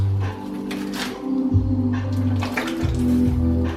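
Hot water drains and pours off beef bones that were boiled to clean them for a Vietnamese spicy beef noodle soup broth. The water sloshes and runs close by, loud and continuous, with tonal gurgles through it.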